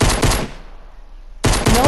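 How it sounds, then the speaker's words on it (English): Rapid automatic gunfire from the video game Fortnite, in two loud close bursts separated by a short gap of quieter game ambience. "I'm shooting a person that's shooting rockets."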